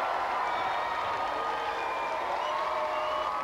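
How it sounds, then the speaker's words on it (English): Studio audience at a television game show applauding the contestants, a dense, steady wash of many hands clapping, loud and unbroken throughout. "let's have a big round of applause for all of our contestants."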